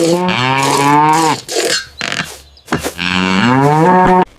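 Cattle in a cow shed in an animated rural story give two long, loud, close moos, separated by a brief pause with softer sounds.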